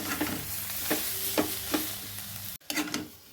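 Cabbage with spices fries in a pan, a soft sizzle broken by several quick scraping stirs at a steady rhythm, close and fairly quiet.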